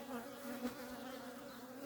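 A steady, dense buzzing of many honey bees in a crowded two-box hive, continuous and fairly close, with a sustained hum and no voices.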